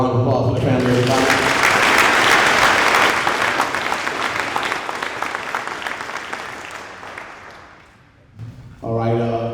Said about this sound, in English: One more time, a round of applause for the family